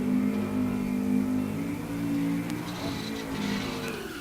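A naturally aspirated small-block drag race car runs at Tulsa Raceway Park during Race Week, heard as a continuous loud engine drone with a steady tone and no talking.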